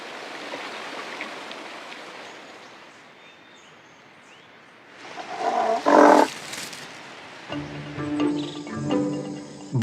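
A tiger clamps a deer's neck in its jaws and strangles it. Rough growling bursts and scuffling rise midway and near the end over a steady background of chirping crickets and insects.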